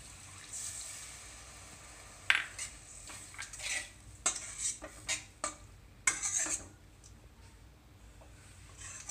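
A spoon stirs coconut milk masala in a pan over a medium flame, making quiet, irregular metallic scrapes and clinks against the pan with soft bubbling beneath.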